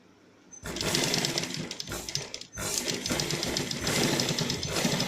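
Sewing machine stitching along a garment neckline, a steady close whirring run that stops briefly near the middle and then resumes.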